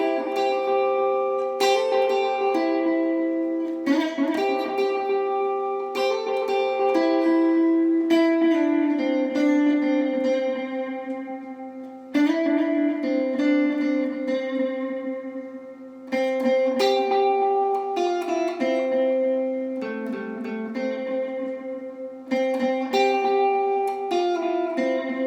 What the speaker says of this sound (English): The guitar solo together might sound a bit like this.